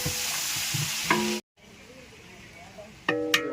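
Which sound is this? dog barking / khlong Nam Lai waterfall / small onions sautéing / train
small onions sautéing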